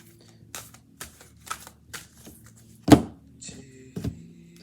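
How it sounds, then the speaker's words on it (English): Tarot cards are shuffled by hand in a few separate bursts of crisp riffling and tapping, close and clear, with a sharper snap near the middle and quiet pauses between. "I'm just going to shuffle"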